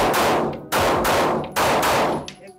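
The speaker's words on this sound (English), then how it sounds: "Next, we will be using the Glock 19." Three loud, sharp Glock 19 pistol shots at a shooting range, close up, each with a ringing decay, spaced roughly at even intervals.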